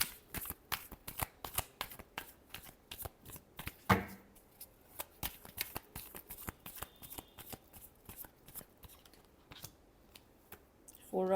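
Tarot cards being shuffled up close, a long run of quick papery riffles and snaps with uneven rhythm and a louder flurry near the middle, with a voice speaking faintly at times.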